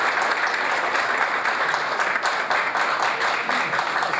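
An audience at a stage show event in Gujranwala claps vigorously, a loud continuous roar of hands with a steady, slightly pulsing texture.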